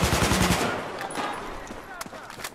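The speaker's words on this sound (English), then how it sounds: "this gun is in the carbine class, and it is fantastic. It just destroys." Rapid automatic carbine fire in a Battlefield 4 team deathmatch, a dense burst of shots opening loud then trailing into scattered, fainter gunfire and a few sharp isolated cracks.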